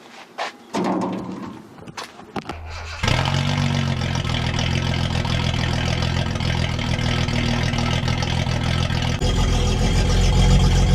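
A few clunks and brief cranking, then a Datsun 280Z engine catches and settles into a steady, loud idle that continues to the end.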